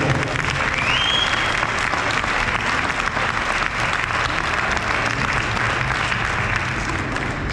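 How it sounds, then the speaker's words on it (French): An audience at a Christmas thank-you event with firefighters in Fréjus applauds steadily and loudly, with dense continuous clapping and no voices over it. "Donc je voudrais qu'on l'applaudisse très fort."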